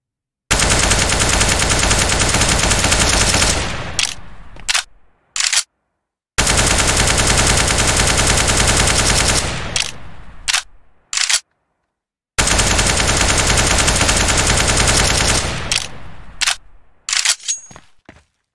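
An automatic rifle sprays in a video game, three long loud bursts of rapid fire each trailing into a few short taps, separated by brief silences.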